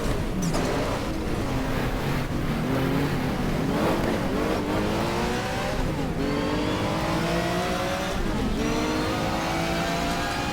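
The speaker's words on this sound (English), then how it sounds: "An Alfa 75 passed, an Holden Commodore and another Alfa." Several racing touring cars, an Alfa 75 and a Holden Commodore among them, roar past in the GTR2 racing game at Wellington, engines revving loudly and continuously with rising and falling pitch sweeps as they pass close by.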